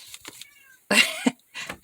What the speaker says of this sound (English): I don't know if you can hear my cat. He's outside my window.